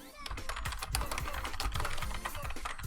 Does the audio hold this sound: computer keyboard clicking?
yes